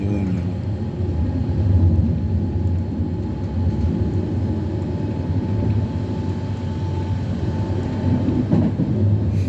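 A passenger train on the airport route rumbles steadily from inside the carriage, a continuous low rolling drone with faint rattles, no voices heard.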